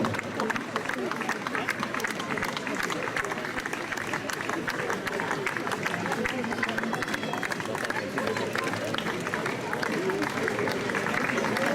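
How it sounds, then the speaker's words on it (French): Crowd applauding at a Basque force competition, a charette-lifting event, with dense steady clapping and hubbub filling the whole stretch at an even level. "On applaudit bien fort."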